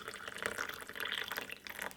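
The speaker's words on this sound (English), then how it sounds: "you're gonna pour some inside of the glass like this" Lukewarm water pours steadily into a glass holding garlic, a close, soft splashing trickle that runs for about two seconds.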